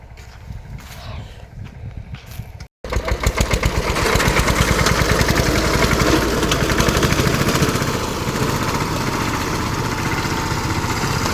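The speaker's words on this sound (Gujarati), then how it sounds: "સામે ટ્રેક્ટર હાલે છે" A tractor engine runs in an open farm field, a steady, loud, pulsing mechanical drone that starts after a short quieter stretch and then holds near the listener.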